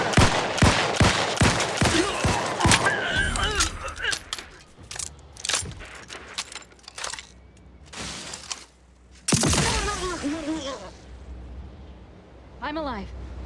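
Gunfire bursts from combat in The Outer Worlds 2: a fast string of loud, close shots opens the scene, then scattered blasts and impacts continue, with a heavy burst near the end and game voices speaking between.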